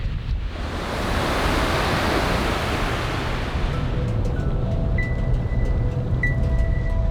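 Steady roar of Atlantic Ocean surf washing onto a beach on Cumberland Island, with wind rushing across the microphone and faint high tones appearing toward the end.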